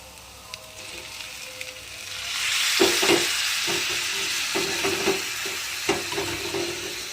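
Chowmein noodles tossed into a pan with scrambled egg bhujia, the frying hiss swelling and then holding steady, with repeated rhythmic scrapes and clanks of a spatula stirring close by.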